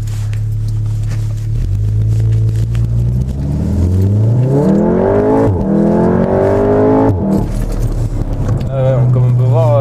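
A VW Golf 7 R pulls away from walking pace on a wet road, its engine revving up through the gears with rising pitch, a shift break and renewed climb, close and loud while a person talks over it.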